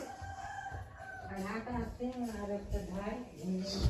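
Chickens on a farm cluck and call, with a rooster-like crow in a dim shed, under and between voices talking nearby.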